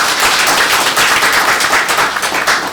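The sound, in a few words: audience applauding students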